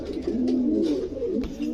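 Pigeons of the KTM breed cooing close by, a low throaty warbling coo that rises and falls in a couple of phrases, with faint rustling in the background.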